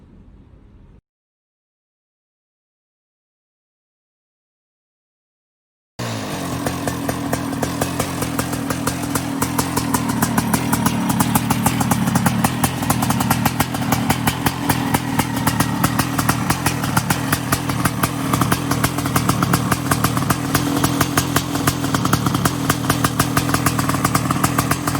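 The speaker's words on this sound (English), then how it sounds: "So right now we were just putting heat in the engine to feed the rings on my new piston that we just got" A race car engine runs steadily to heat in a new piston's rings, a loud, continuous buzzing drone that starts after a few seconds of silence and holds unchanged, with no voices.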